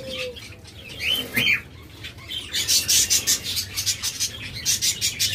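A pair of caged lovebirds chirp and twitter in bursts, with fluttering wing flaps near the start, then a steady run of rapid, close bright chirps.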